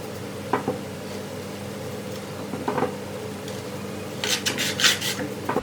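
Soft rubbing and scraping come from einkorn bread dough being handled and moved into a floured proofing bowl, a few quiet sticky touches, then a louder cluster of brushing sounds near the end, over a low steady hum.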